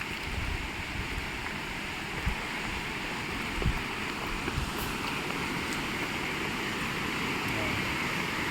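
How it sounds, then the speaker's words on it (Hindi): Steady rushing water flows continuously with a broad wash of noise, a few soft knocks, and no clear voices over it, at Netarhat, Jharkhand. "यहाँ तक आ रहा है पानी की आवाज़ है"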